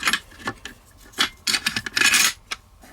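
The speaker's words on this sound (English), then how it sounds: "taking our bolt carrier group and our bolt, get it into place here, slide it in" An AK-47 bolt carrier group and bolt slide into place during rifle reassembly, a few short metallic scrapes and clicks close up with nothing else heard.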